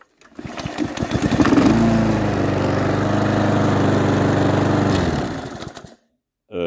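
A small engine starts up beside a camper van and runs at a steady, fairly loud putter for several seconds, then shuts off into silence.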